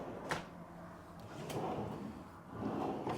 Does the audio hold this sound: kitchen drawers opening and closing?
yes